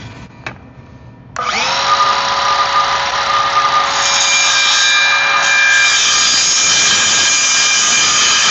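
A power saw cuts through a wooden board during a home renovation: a steady loud whining, grinding drone that starts abruptly and holds for several seconds, close by, with no speech.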